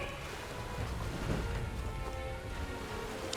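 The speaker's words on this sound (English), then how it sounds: "This bloody rain." Steady rain hisses in the video game Metaphor: ReFantazio, an even, moderately loud wash of falling water with no voices over it.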